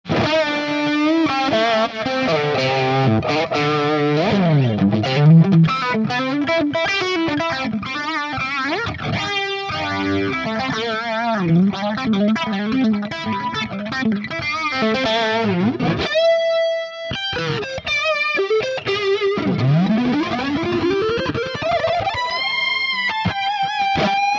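Distorted electric guitar riffs, reamped live through an Axe-Fx, run continuously through heavy effects, with chorus-like shimmer, sustained bent notes and a brief pause midway before playing resumes.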